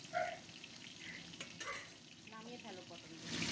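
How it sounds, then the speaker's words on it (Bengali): Pointed gourd (potol) pieces fry in oil with a soft, continuous sizzle and light stirring, quiet and close. "সুন্দর করে হালকা লালচে করে একটু সময় নিয়ে ভেজে নিতে হবে।"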